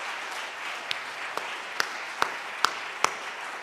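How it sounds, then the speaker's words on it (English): An audience applauds award winners at an alumni awards of excellence ceremony, steady crowd clapping with a few louder, sharper claps standing out near the microphone. "I wonder if we can just get a big round of applause for all of our winners so far."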